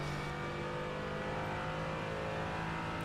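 A car engine revs in a racing video game, a steady loud droning engine tone with strong harmonic hum, held continuously and close, with no talk.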